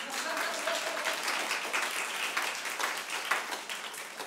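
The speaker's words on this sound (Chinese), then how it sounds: "此时应该拍手。" A church congregation claps together during a sermon, a steady, full round of applause that holds for several seconds.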